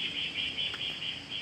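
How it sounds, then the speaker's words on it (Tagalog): Insects or birds buzzing and chirping on a mountainside in Batangas, a steady high shrill trill with gentle rhythmic pulses, fairly faint and continuous with no talking. "Ang ganda ng huni ng ibon,"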